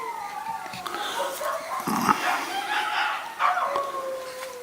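Several dogs bark, yip and howl in the background outdoors near a beach, a steady run of overlapping calls heard at middling distance.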